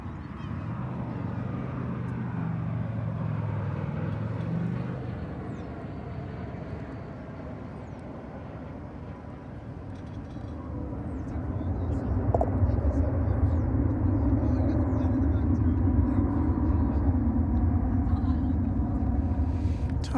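A jet airliner touches down on runway 18 left at Dallas/Fort Worth Airport, a broad distant engine roar that swells louder in the second half, mixed with air traffic radio talk.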